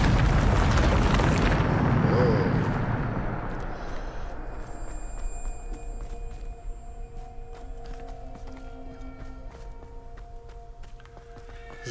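A heavy magical explosion from the Bombarda spell in the video game Hogwarts Legacy bursts loudly at the start, then rumbles and decays over several seconds into a lingering low hum with faint chiming tones.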